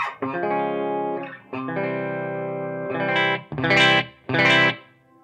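Electric guitar played through an amp with a shimmering modulation effect, sustained chords ringing out, then a few louder strummed bursts near the end.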